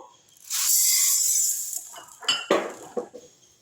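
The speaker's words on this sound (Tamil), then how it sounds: "அடுத்து அதே கடாயில் இந்த பாசிப்பருப்பு எடுத்து போட்டுப்போம்" Dry moong dal pours into a kadai in a long rushing patter, then a few clinks and scrapes of the pan and spoon follow.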